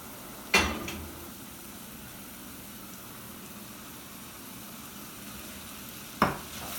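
Carrots being stirred into a pot of pea soup: two sharp clatters of a spoon against the pot frame a quiet stretch of low simmering, with no voices.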